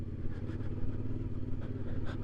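A CFMOTO Ibex 450 motorcycle engine idles quietly with small throttle blips, giving a low, even rumble and slight pulsing revs, faint and close with no talk.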